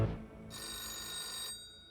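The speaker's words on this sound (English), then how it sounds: "she gets a sudden phone call" A telephone rings with a single bright electronic ring burst that starts suddenly, holds for about a second, then cuts off, clear and close with no talk.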